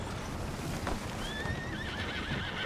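A horse in Red Dead Redemption 2 gives a single clear whinny with a wavering pitch over steady low game ambience and faint hoof clatter, with no talk.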